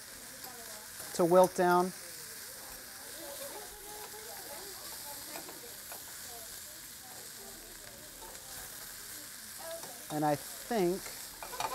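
Radicchio and shrimp sizzle quietly in a pan as they are stirred, a soft continuous frying hiss beneath a person talking in short bursts.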